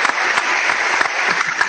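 Dense, steady applause, close and continuous with no talk over it, sounds during an Instagram live interview about guitars and pedals.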